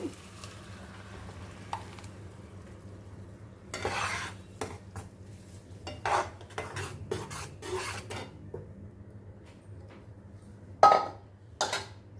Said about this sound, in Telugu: సో ఇవి ఒక సిక్స్ టమాటాలు నేను ప్యూరీ చేసి పెట్టుకున్నాను సో ఇప్పుడు ఈ ప్యూరీని ఇందులో వేసేద్దాము